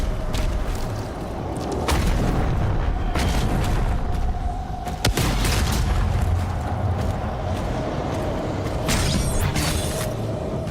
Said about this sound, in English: let's do rocket launcher